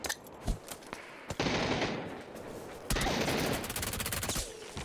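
Shotgun blasts in a third-person ranked shooter game, several loud booming shots with ringing tails amid scattered lighter gunfire and game effects.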